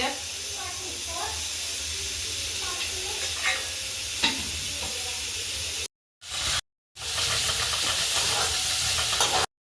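Medium onions frying in a little oil for chole masala, a steady close sizzle with occasional stirring clicks, broken by two brief silent gaps, with faint talk in the background.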